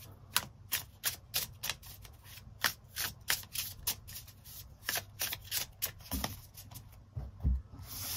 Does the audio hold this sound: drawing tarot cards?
yes